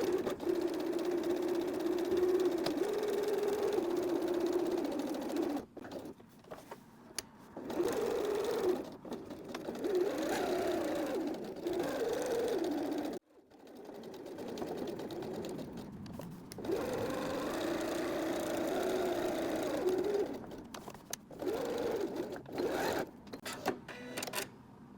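A sewing machine runs in long continuous bursts as it stitches all the way around a zipper on a library bag. A steady mechanical whir stops and starts with brief pauses, close and fairly quiet.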